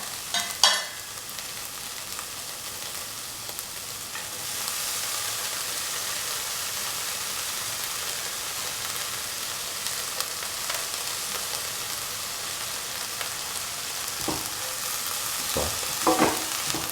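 Red spinach pieces stir-fried in a pan with tomatoes, onions, garlic and green chili, a steady broad sizzle running throughout with occasional spatula scrapes and clinks, close and alone with no talk.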